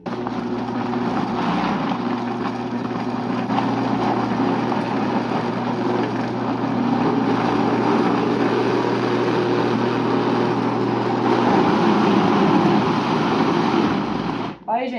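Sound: blender blending homemade ora-pro-nóbis seasoning

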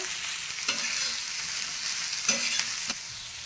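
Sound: onion frying in oil with asafoetida

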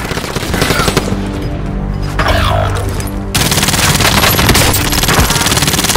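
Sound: gunfire in the video game Call of Duty Warzone

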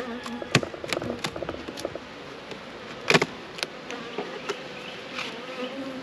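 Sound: honey bees buzzing at hive

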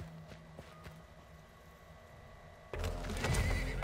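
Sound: horse neighing in the video game Weird West

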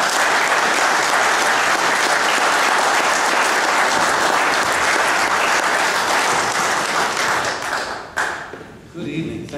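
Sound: audience applause welcoming speaker Larry Pratt

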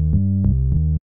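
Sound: Serum triangle wave bass layers with filter

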